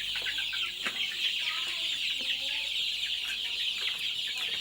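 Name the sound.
chickens clucking in a chicken coop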